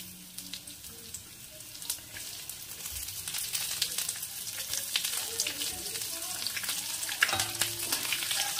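Chopped onion frying in a pan with dried red chillies, a steady sizzle that grows louder under occasional scraping stirs of a spatula, close with no talking.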